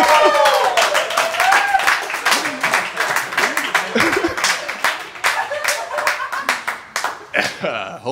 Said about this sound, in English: Hold those applause for a second